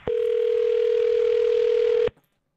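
A single steady telephone tone for an outgoing call sounds loud and continuous for about two seconds, then cuts off abruptly into silence.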